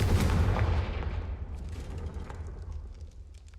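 A loud Confringo fire-spell blast in a Harry Potter video game: a sharp explosive boom up front, then a long rumbling decay that fades over several seconds.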